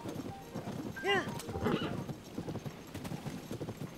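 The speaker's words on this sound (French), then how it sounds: "Pour moi, ça me fait un cheval." Horse in The Legend of Zelda: Tears of the Kingdom, a quiet run of clip-clopping hoofbeats with a short whinny partway through, under someone talking.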